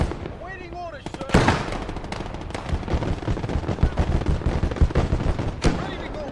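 Grenades burst amid heavy gunfire in the World War II game Gates of Hell: Ostfront, with loud, close blasts and rattling shots over a continuous battle din.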